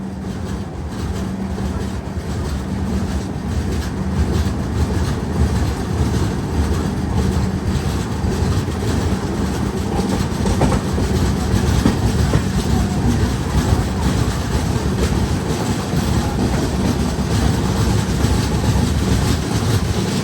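Swarnajayanthi Superfast Express train running on rails, heard from onboard as a loud, continuous low rumble with steady clattering wheel rhythm throughout.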